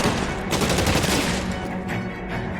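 Heavy gunfire from a shootout in the video game L.A. Noire, a dense, loud burst of rapid overlapping shots that rattles steadily, then eases slightly, with no talking over it.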